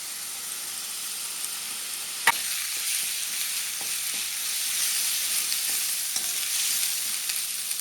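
Ginger garlic paste fries in a pan for fish pulusu, giving a continuous bright, close sizzle with a single sharp tap early on and faint stirring scrapes.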